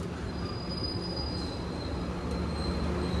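Steady rumble of an economy-class local train, the Kahuripan, in motion between Jogja and Bandung, with continuous high-pitched wheel squeal and rattling carriage noise throughout, no voices.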